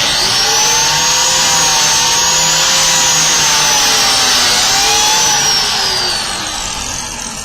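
A biscuit joiner plunging into a wood board to cut a slot: a loud, steady high-pitched motor whine with a gliding pitch that holds for several seconds and then eases down as the cut finishes.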